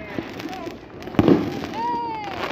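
Large New Year fireworks with a crowd setting off a circle of launches together: a sharp burst and crackle near the middle, whistling rising tones and pops over background chatter, with a voice exclaiming.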